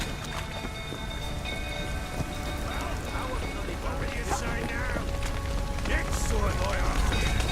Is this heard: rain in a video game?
yes